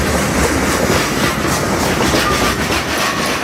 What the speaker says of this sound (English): That's a rock train flowing through Lakeland.